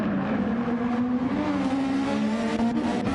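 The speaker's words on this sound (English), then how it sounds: "You'll hear how the car rumbles." A Formula-style racing car in a racing video game rumbles through a long corner, its engine note a steady, close, throbbing drone that wavers slightly in pitch throughout.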